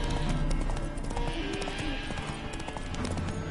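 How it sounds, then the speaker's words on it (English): Roach, the horse in The Witcher 3, clip-clops in a steady trotting rhythm nearby, a spooked mount with a faint whinny mixed in, while voices talk over the hoofbeats. "Spooking my horse."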